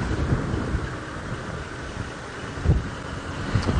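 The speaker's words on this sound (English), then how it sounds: "it's still very windy, as you can see, the leaves and the trees," Strong wind gusting through tree leaves and branches at dawn in an African safari reserve, a continuous rough rushing roar with low buffeting thumps on the microphone.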